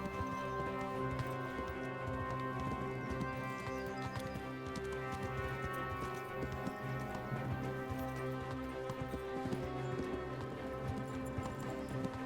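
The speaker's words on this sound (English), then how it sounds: "My horse can't go quick. He can't sprint." A horse in the video game Kingdom Come: Deliverance goes at a steady pace, its rhythmic hoofbeats clopping quietly and evenly throughout, with occasional snorts and no talk.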